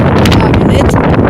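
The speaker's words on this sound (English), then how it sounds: "As you can hear, it's really windy." Strong wind buffeting a microphone outdoors on a cold day, a loud continuous roaring rumble filling the whole moment.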